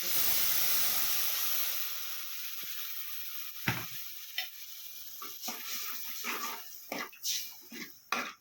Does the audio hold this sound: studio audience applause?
no